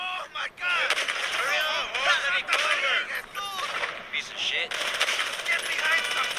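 Rapid automatic gunfire from the Free Fire battle game, loud bursts of shots crackling almost continuously with brief gaps, busy game sounds layered throughout.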